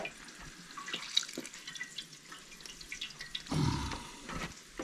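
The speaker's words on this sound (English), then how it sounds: "I'm going to squeeze all the water out of this" Water drips and trickles as cooked wild poke greens are squeezed by hand, a scatter of small irregular drips and splashes, faint and close, with a brief louder gush of runoff near the end.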